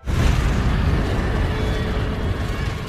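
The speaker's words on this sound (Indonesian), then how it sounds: "tiba-tiba saja rumah Michael meledak." A house explodes: a loud, deep explosion booms and then rumbles on with dense, roaring noise that slowly fades, with no voices.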